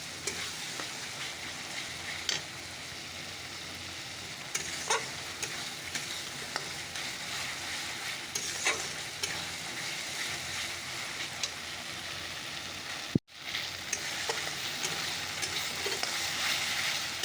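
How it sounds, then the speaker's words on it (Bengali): Masala with turmeric fries and is stirred in a pan, giving a steady, quiet sizzle with occasional scraping ticks of the spoon and one brief sharp knock near the end. "তো মশলাটা চলে আসতে কষিয়ে নিই"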